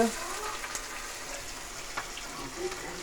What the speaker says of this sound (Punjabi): ਤੇਲ ਗਰਮ ਹੋ ਗਿਆ ਜੀ ਹੁਣ ਪਾਉਂਦੇ ਆ ਜੀ ਜੀਰਾ ਜੀਰਾ ਭੁੰਨ ਹੋਊਗਾ ਜੀ